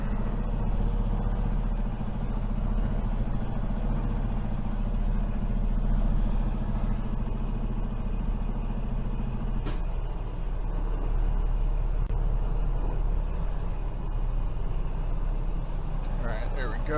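A semi truck backs a trailer into position, its engine giving a steady, close, low rumble that holds throughout, with a voice over it.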